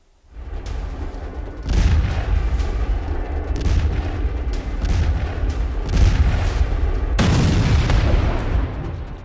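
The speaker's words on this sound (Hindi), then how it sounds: "10 मई की सुबह सुबह पाकिस्तान के किनारा हिल्स में एक धमाका होता है।" A BrahMos missile strike explosion sound effect: heavy, sustained booming blasts that swell and rumble repeatedly, loud and close, with no talk.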